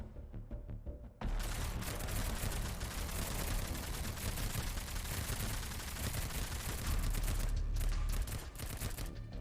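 Rapid enemy gunfire in the Girls' Frontline game: dense, continuous fast automatic shooting starts abruptly after a short quieter intro and keeps up as a relentless barrage, with scattered sharper bursts near the end.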